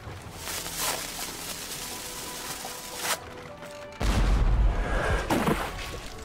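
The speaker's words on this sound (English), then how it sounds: "It's been a while since I last prepared a cannon to be fired." A deep boom of cannon fire in the adventure game Jack Keane 2 bursts out over a noisy, crackling background, with swooshing and rumbling as the blast echoes.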